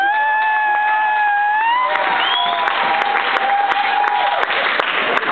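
A loud crowd at a dance crew performance cheers and applauds continuously, with whoops and a few whistles rising over the clapping.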